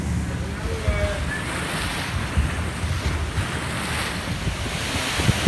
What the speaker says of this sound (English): This is part of the steam propulsion system that drives the paddle wheel.